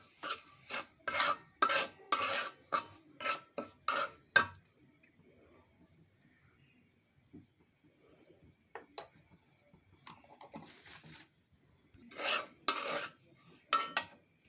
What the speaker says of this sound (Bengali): ঘি দিয়ে আমি সুজিটা ভালো মতো ভেজে নিচ্ছি